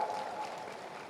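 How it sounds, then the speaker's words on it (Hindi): Audience applause at an industrial park groundbreaking event in Bhopal, a steady wash of clapping from a large crowd held at an even level for about a second. "जोरदार ताली बजा"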